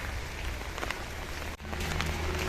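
Heavy rain falls at a school, a constant loud patter on surfaces with brief drips standing out and no voices.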